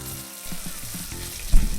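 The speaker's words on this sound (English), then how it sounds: "We will fry over medium heat until golden" Leek, onion and green pepper frying in olive oil in a cooking pot over medium heat, a steady close sizzle with soft crackles and a brief louder burst near the end.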